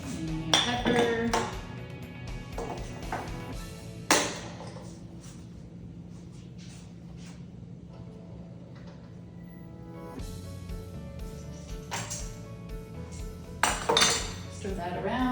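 A spoon stirring fried rice vegetables with salt and pepper in a metal pot, giving a few sharp clinks and scrapes against the pot with a quieter stretch in between, while someone talks over it.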